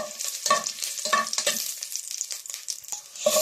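Ginger is dropped into hot cooking oil and sizzles and crackles close up, with irregular bursts of frying and stirring noise.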